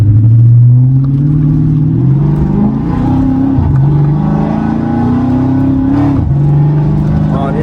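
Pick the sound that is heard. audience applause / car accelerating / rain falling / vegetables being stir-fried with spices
car accelerating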